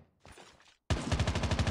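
Heavy gun in COD Mobile firing a rapid, loud, evenly spaced automatic burst after a brief softer stretch and a short gap, each shot punchy and close.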